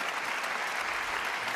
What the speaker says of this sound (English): Stand by for the applause.